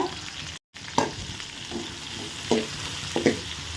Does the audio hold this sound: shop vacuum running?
no